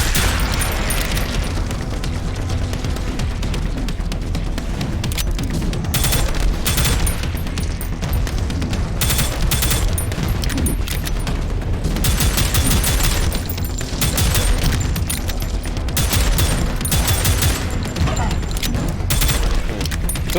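Rapid, dense pistol fire in the first-person shooter Prodeus, shots packed into continuous fusillades with booms and explosions, loud and constant throughout, with a voice talking over it.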